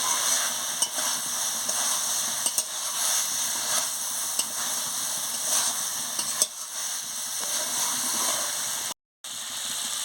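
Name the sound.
stirring yogurt cauliflower curry while frying in pan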